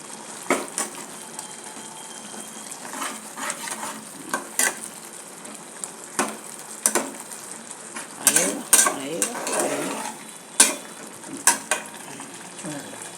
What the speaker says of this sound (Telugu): ఇప్పుడు నేను ఇందులో బాగా కడిగి పెట్టుకున్న చికెన్ వేస్తున్నానండి.